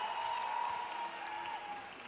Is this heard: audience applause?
yes